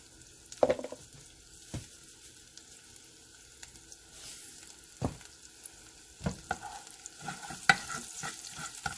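Garlic frying in a pan on a home stove, a quiet steady sizzle broken by several sharp clinks and scrapes of stirring, with no talk.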